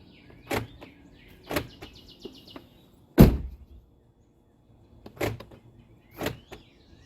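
Power door locks on a 2009 Ford Escape actuate in a series of short, sharp clicks and clunks, about six separate bursts spaced roughly a second apart. The loudest thump falls in the middle and quiet gaps separate the bursts. No speech.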